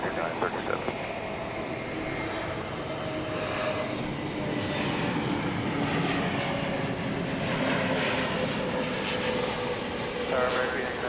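A fixed-wing airliner takes off at DFW Airport at night, its engine roar building into a steady, broad drone at a distance, with faint radio chatter underneath.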